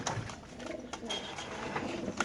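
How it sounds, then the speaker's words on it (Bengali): Soft, low cooing of a white female pigeon repeats quietly against faint background noise, with a brief louder sound at the very end. "খুব সুন্দর এই কবুতরটা এখানে আছে একটা মাদি কবুতর"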